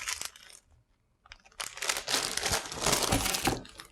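Plastic bags of LEGO pieces from a typewriter set crinkle and rustle up close, a short burst first, then a pause and a longer, louder stretch of crackling handling.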